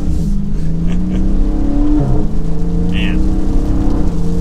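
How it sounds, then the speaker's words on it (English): A 2023 Chrysler 300C final edition with its 6.4L V8 pulls hard under acceleration, a loud continuous roar climbing in pitch with a brief shift, while a voice briefly exclaims over it. "We'll do one more acceleration for good luck. Enjoying the last V8 of this car."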